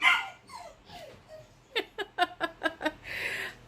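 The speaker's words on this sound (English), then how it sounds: "So I'm sorry for your ears, because she can really bark loud" A dog barks loudly indoors at someone arriving home, starting with a few whining yelps and then a rapid run of about six sharp, close barks.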